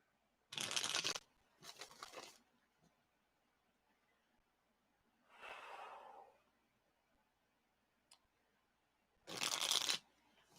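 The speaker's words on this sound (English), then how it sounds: "Let me just shuffle the cards." A deck of cards is shuffled in several short, crisp riffling bursts separated by quiet pauses, close and fairly soft in a quiet room.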